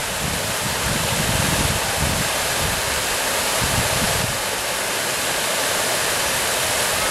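Taughannock Falls pours in a steady broadband hiss and roar of falling water, running at lower than normal flow after a dry summer, constant and enveloping with occasional low wind buffeting.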